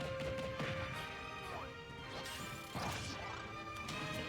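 Super Smash Bros gameplay as Corrin's up special hits Villager: a quick series of sharp whacks, crashes and swishes over a continuous game soundtrack, fairly quiet.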